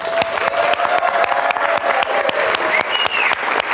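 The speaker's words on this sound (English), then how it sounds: "We'd love to give you a round of applause." Loud, sustained applause from an audience at a women's event, dense rapid clapping close by with a bit of crowd noise and faint cheering mixed in.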